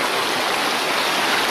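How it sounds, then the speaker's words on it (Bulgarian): The Tundzha river flows past on a sunny day near the village of Srem, a loud, close, steady broadband rush of moving water with no voices. "Това вече е река Тунджа."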